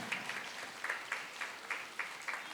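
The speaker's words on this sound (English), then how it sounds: "Please clap for ma'am." Faint audience clapping for a teacher at a school event, heard as soft, evenly spaced claps at a distance over a steady background hiss.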